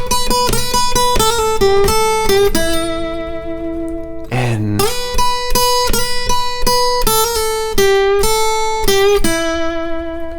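A distorted electric guitar plays a bluesy lick alone: quick repeated notes, a brief slide, then the phrase returns, loud and close.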